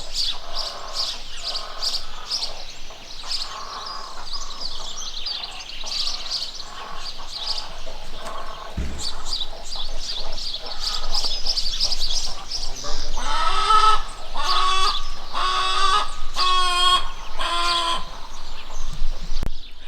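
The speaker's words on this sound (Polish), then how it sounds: "Pretty sure it's magpie." Magpies calling outdoors at Mount Sunday (Edoras), New Zealand: a run of harsh chirps and calls over steady wind noise, turning into louder, clearer repeated calls near the end, with no talking.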